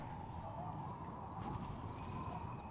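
Horses galloping in the war game Toy Soldiers, a quiet, steady patter of hooves in the background with a faint neigh or two, low in the mix.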